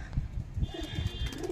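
Pigeons coo softly in a loft, a few low, throaty rolling calls repeating at a slow rhythm, faint and fairly close with no voices.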